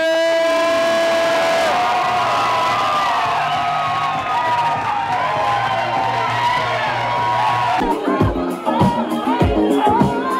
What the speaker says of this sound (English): Make some noise, clap your hands, scream and shout